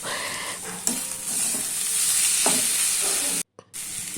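A banana flower and grated boiled potato filling for chop is stirred in a hot pan, with repeated scraping strokes over a continuous soft sizzle and a brief dropout near the end.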